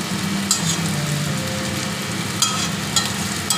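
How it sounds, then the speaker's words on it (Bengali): Cauliflower and potato being stirred and fried in a pan for a poppy-seed dish: a steady sizzle with a few sharp scraping clicks of stirring, close and alone with no voices. "ভালোভাবে একটু নাড়াচাড়া করে ভেজেও নিতে হবে।"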